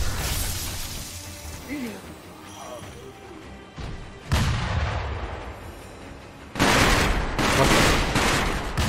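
Gunfire and explosive blasts in the video game Sekiro: Shadows Die Twice, including shotgun blasts, with two loud sharp bursts standing out over a busy combat din.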